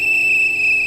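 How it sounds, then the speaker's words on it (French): A steady, shrill high-pitched whistle tone in a video game, held without a break, loud and continuous over a faint background. "il faut donner un coup de sifflet"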